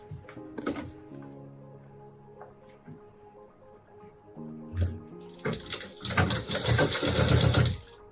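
A sewing machine stitches a fishcut inskirt in short bursts, with a brief whir early, then a longer, louder rattling run of needle strokes toward the end, with a voice speaking between the bursts.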